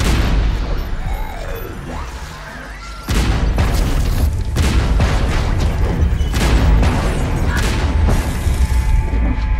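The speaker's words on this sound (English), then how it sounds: "So now you hear some of those gunshots, and they're pitched down, and we've also put some reverb on them" Pitched-down gunshot effects drenched in reverb boom out loudly in repeated heavy blasts, with slowed, smeared tails and dense crashing layers throughout.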